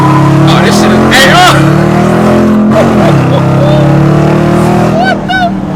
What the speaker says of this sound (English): let's go ahead and punch this thing in race mode real quick